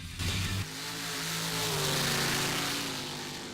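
A sand drag racing vehicle revs at a Yuma, Arizona drag strip, its engine note rising and swelling for a few seconds in a loud, sustained roar with a steady whine.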